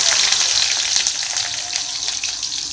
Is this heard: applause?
no